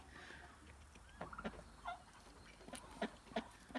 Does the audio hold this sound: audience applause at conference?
no